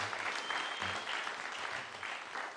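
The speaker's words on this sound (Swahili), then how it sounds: "Tupigie Bwana Yesu makofi" A church congregation claps together at a gospel service, steady dense applause filling the room throughout, close and fairly loud, with no voices rising above it.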